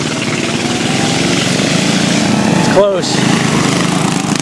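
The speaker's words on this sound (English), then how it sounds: "Little Dirt Bike got the lead with the Rupp" Rupp mini bikes race on a track with hairpin and concrete turns, their small engines buzzing loudly and continuously. A brief rising whine passes close by, and a voice speaks briefly over the noise.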